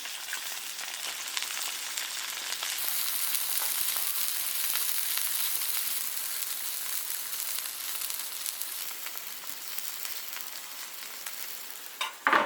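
Spicy skin-on lamb ribs sizzle and fry steadily in a hot iron wok, a continuous loud crackle with the stirring dying away briefly before a clatter at the end.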